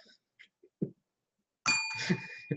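Bell struck by hand during a live show, a bright ringing tone that sustains and fades after a few quiet scattered sounds, with faint voices around it.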